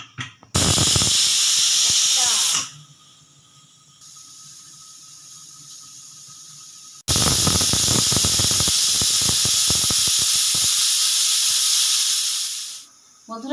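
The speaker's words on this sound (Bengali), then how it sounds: "এবার আমি ঢাকনাটা দিয়ে দেবো কুকারে তিনটে সিটি পড়লে আমি বন্ধ করে দেবো" A pressure cooker on a kitchen stove lets out two long, loud bursts of steam hissing and whistling, separated by a quieter stretch of softer hiss, with the second burst cutting off near the end.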